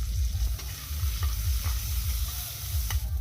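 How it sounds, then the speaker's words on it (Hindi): Onion, tomato and chili sizzle and fry in hot oil while being stirred, a continuous close crackle with rhythmic scraping strokes of the spoon through the pan, no talking. "तो अब हम लोग प्याज डालते हैं, टमाटर डालते हैं, मिर्चा डालते हैं। ये देखिए सारा डाल दिए हैं। अब मिक्स करते हैं।"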